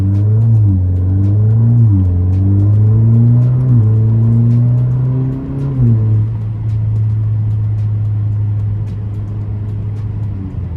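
An Alfa Romeo Giulia with an aftermarket muffler setup accelerates through its gears on a late-night city drive, loud and close, its engine note climbing and dropping with each shift before settling into a steady cruising drone.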